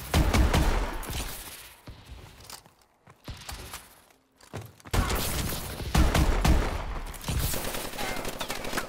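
Rapid bursts of gunfire from the Obsidian gun in Advanced Warfare ranked multiplayer, loud rattling volleys that stop briefly, thin out, then resume heavily, with a voice talking faintly in between.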